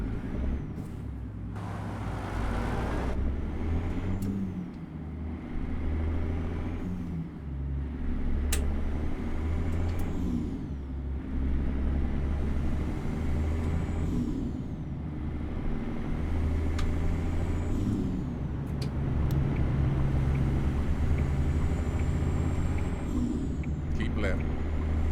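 A Kenworth K100E truck engine in American Truck Simulator rumbles low and steady, rising and falling with gear changes, while short sharp air brake hisses and releases cut in at intervals, with a voice speaking over it.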